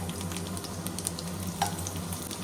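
Onions and garlic fry in hot oil, a faint continuous sizzle with a few light clicks and scrapes of stirring, quiet and close.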